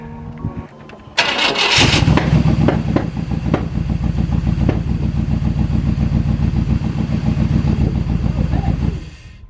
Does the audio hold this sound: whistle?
no